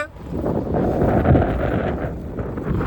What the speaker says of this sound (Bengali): শীত এবং বাতাস দুইটাই ব্যাপক